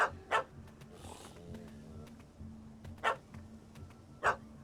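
In The Witcher 3, a game dog barks in short bursts, three or four separate yaps spaced a second or so apart over a low steady background.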